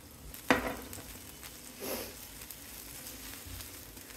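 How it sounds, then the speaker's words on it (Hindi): A paratha is laid on a hot tawa griddle with ghee, giving a sharp sizzling burst followed by a softer, faint hiss and a second brief surge of frying. "और अब इसको हम तवे पे डालेंगे।"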